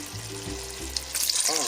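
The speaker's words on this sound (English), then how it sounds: "Let's add our water." Water pours into a pot for Filipino chicken tinola, a short splashing rush that rises toward the end over a low kitchen hum and faint background voices.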